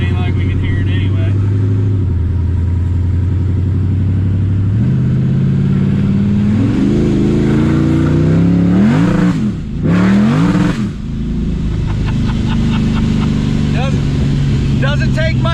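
Car fitted with a new torque converter and street tires driving on a street, loud engine droning then revving hard through rising pulls with gear shifts, a person talking over it.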